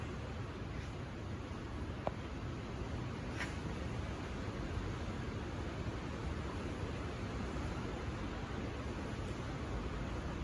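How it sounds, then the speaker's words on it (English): Heavy rain pours steadily in Tennessee, a dense, even broadband hiss that continues without letting up. "It's pouring here in Tennessee."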